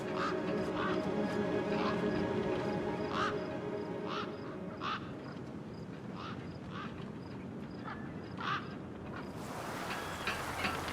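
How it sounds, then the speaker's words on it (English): Gang birds, scavenger birds in the game Beyond a Steel Sky 2, give repeated harsh squawking calls at a steady rhythm, fairly loud over a dense rumbling ambient wasteland bed, with no talk. "Then, I heard them. Gang birds, scavengers"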